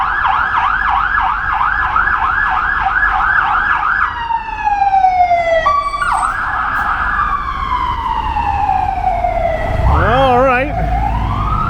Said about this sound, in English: fire truck with a purpose coming towards us